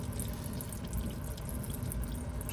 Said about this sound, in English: Just let it drip like that for a little bit.